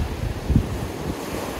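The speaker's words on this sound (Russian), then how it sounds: "дует ветер легкий, на море волнение." Black Sea surf at Sochi on a sunny November day, a steady wash of waves with light wind buffeting the microphone, continuous and fairly loud with no voices.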